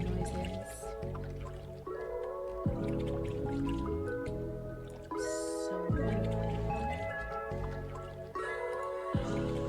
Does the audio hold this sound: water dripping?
yes